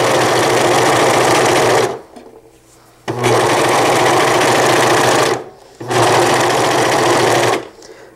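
Serger sewing machine stitching a fabric insert, running fast and loud in three long continuous bursts with brief pauses between them.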